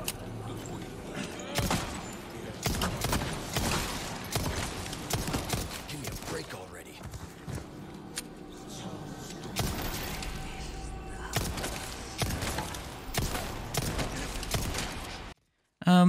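Rapid handgun shots in Resident Evil 4 Remake crack out in repeated bursts alongside impacts and thuds, loud and close, with a person talking over the gunfire.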